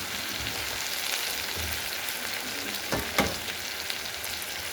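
Chicken pieces fry in a pan with a soft steady sizzle, broken by a couple of brief scraping stirs partway through; fairly quiet and close, with no talking.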